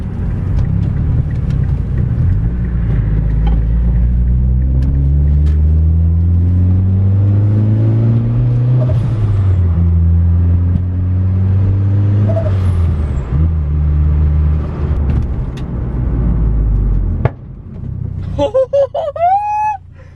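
Turbocharged Mazda 3 with a 2.3 engine, catless downpipe, full 3-inch piping and a MazdaSpeed 3 muffler, revving loudly in rising and falling sweeps, then settling as a few sharp crackling pops burst out near the end.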